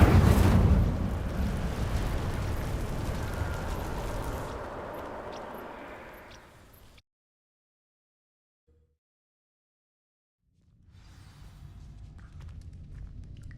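Incendio fire spell igniting dry vines in Hogwarts Legacy: a loud whooshing burst of flame that roars and slowly fades over several seconds, followed by silence and then a low ambient rumble returning.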